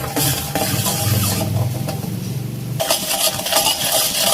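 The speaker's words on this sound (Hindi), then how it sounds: "उसको हमें अच्छी तरह से हिलाना है कि हमारी चीनी पूरी इसमें डिज़ोल्व हो जाए" A spoon stirs sugar until it dissolves for an Oreo shake, making a continuous close swirling and scraping sound against the container. The texture shifts a little partway through, and no one speaks.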